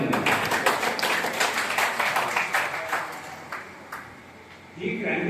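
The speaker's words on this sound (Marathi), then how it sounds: "टाळ्या वाजवल्या" An audience at a Krantijyoti yatra welcome in Nagardhan, Nagpur, claps in quick, rhythmic unison, loud and close, then the applause trails off near the end before another sound cuts in.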